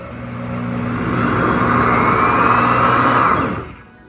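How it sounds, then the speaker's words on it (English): A heating blender cooks pumpkin soup with a loud, steady motor whir that rises slightly and then winds down and stops after about three and a half seconds. No one talks. "So I mentioned that this blender actually boils, it cooks."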